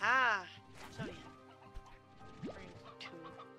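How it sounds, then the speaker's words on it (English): Stony hen clucking in the video game Slime Rancher 2, short clucks and squawks heard close alongside game sounds and a voice speaking over them. "Aha! Stony hen."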